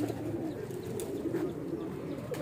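A pair of pigeons cooing close by, a low, steady rolling coo that continues through the whole stretch, with no talking over it.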